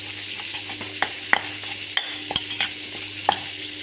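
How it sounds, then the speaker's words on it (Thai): Shrimp paste (kapi) toasting in a pan, a steady soft sizzle broken by several sharp scraping and tapping clicks from stirring, close and fairly loud with no talk. "นี่กะปิค่ะเอาไปปิ้ง ให้มันหอมๆก่อน"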